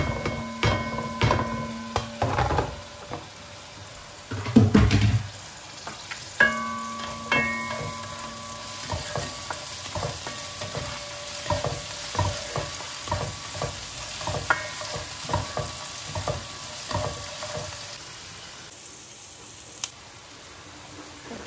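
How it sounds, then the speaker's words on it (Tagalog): Garlic, ginger, onion and chili sauté in a pan, giving a continuous soft sizzle broken by frequent clacking stirs and scrapes of a utensil, with no voices. "ating igigisa sa bawang, luya, sibuyas,"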